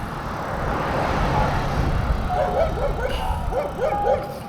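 Several dogs bark and yip at a distance during an afternoon bike ride, their high, quick calls bunching into a rapid flurry over a steady road rumble and wind.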